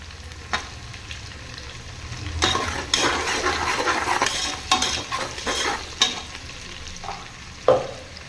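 Onions sautéing in a pan until golden, a steady low sizzle broken by several louder bursts of stirring and spoon scrapes against the pan.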